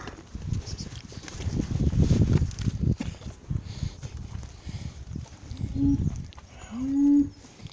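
A friendly cow in a field at Cholsey, snuffling and shuffling close by with rustling movement, then a short low lowing call near the end.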